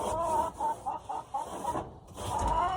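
Chickens in a chicken house cluck continuously, several birds overlapping in a steady, close, fairly loud chorus of short rhythmic calls.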